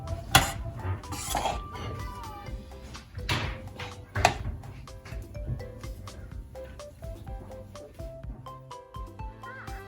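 Ceramic bowls and metal utensils clink and knock in a kitchen as soup of gourd and glass noodles in coconut milk is served, sharp scattered clatters early on easing into softer, sparser taps.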